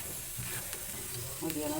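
Grated coconut and chillies roast in a pan for a prawn and raw banana curry, a soft continuous sizzle and hiss close by with faint scraping stirs and a brief louder crackle toward the end.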